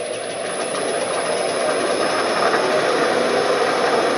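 The spindle motor of a scrapyard lathe speeding up on a variable drive, a steady, loud mechanical whir and rumble with a constant high whine and no talk.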